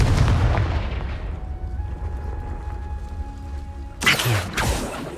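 Confringo blasting spell from the Hogwarts Legacy video game, a heavy booming explosion that rumbles and decays, followed by a second sharp blast burst near the end.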